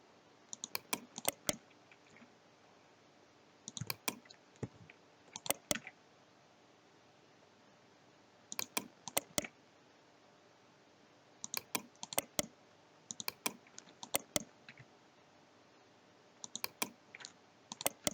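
Computer keyboard typing and mouse clicks while working in Blender 3D software, quick bursts of sharp clicks and keystrokes separated by quiet pauses, close and clear with no talking.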